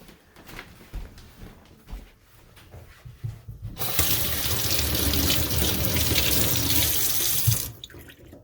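Tap water gushes steadily from a faucet into a sink over a stained finger, a loud, continuous splashing stream that starts suddenly and stops a few seconds later, with quieter handling noises before it.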